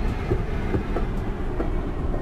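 A passenger train runs in the Passenger Train Simulator video game, with a steady rolling rumble and faint rhythmic clicks of wheels over rail joints, no voices.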